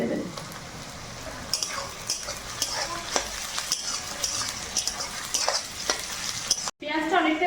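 Chopped nuts fry in a pan alongside chicken, a loud close sizzle broken by frequent spatula scrapes and clinks against the pan, with a short gap near the end.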